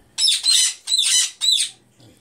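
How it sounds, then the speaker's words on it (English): A pet bird squawks three times in quick succession, loud, harsh and close, each burst about half a second long, with a brief quiet tail afterward. "Oh, bird's getting up."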